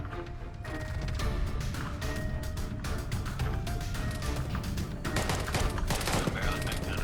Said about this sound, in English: Sounds like one of the other guys on a machine gun is firing.